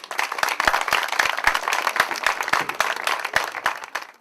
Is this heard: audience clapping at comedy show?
yes